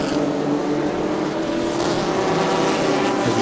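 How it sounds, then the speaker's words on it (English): GTC supercars race around Buriram United International Circuit in a Thailand Super Series event, a steady loud blend of engine roar and passing cars with no clear gaps. "This is the GTC Supercar happening now in Buriram United International Circuit for Thailand Super Series."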